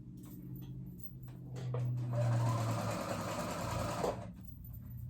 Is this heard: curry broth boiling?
no